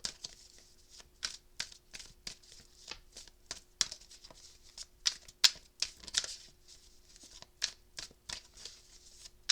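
Tarot cards are shuffled by hand in a quiet room, a long run of soft, crisp riffling taps and flutters in irregular bursts, close and gentle with no talking.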